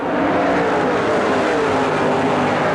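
Stock cars racing at the 1984 American 500, a loud continuous roar of engines with a rushing pass-by quality over the whole stretch.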